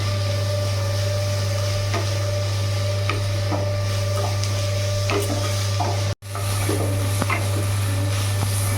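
Khārkol leaves and garlic fry in a pan over a gas flame, a low steady sizzle with soft scraping stirs and occasional clicks, close and alone, broken by a brief gap near the end.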